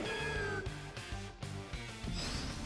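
The cat-like cry of the Pokémon Meowstic in Pokémon Legends Z-A: a few short mewing calls layered over continuous game music.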